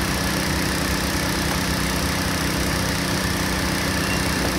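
An air blower inflating an air cushion runs loud and constant, a dense steady engine-like roar that stays unchanged throughout with no voices over it.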